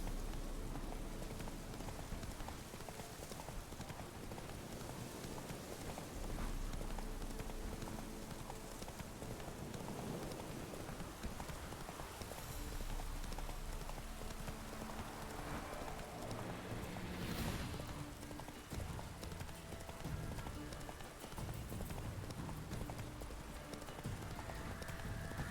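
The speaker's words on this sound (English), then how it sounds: "Run, Roach." A horse gallops in The Witcher 3: Wild Hunt, with steady, close clip-clop hoofbeats running through the whole stretch over a dense, continuous layer of outdoor ambience.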